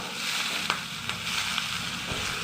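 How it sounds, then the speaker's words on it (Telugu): Spices roast over low heat in a pan with a steady, soft sizzle and a few faint clicks, no voices. "ఇట్లా లైట్ సెగన వేయించుకోవాలి"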